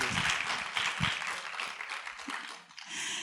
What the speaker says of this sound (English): Can we get a round of applause for Jean here?